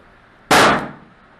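A single sharp .41 Magnum handload gunshot cracks loudly and nearby, then decays quickly into a short tail.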